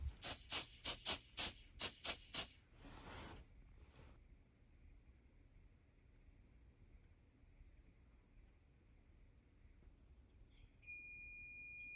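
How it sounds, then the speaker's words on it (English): A garage fire alarm system sounds off after a smoke detector is triggered: a run of about nine loud, rapid pulsing blasts stops abruptly, leaving a quiet hum, and a thin steady electronic tone enters near the end. "there's our alarm."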